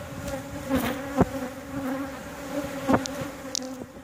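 Honeybees buzz around an open backyard hive during a frame inspection, a steady, close drone of many insects with a few sharper clicks and knocks from handling the frames.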